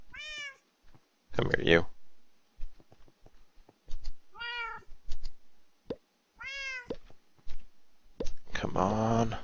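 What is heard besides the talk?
cat meowing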